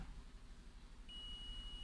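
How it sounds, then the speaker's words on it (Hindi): A multimeter set to continuity beeps while probing a capacitor on a mobile phone circuit board: a steady, faint, high electronic tone starts partway through and holds to the end over low background hum. "बीप का साउंड आ रहा है"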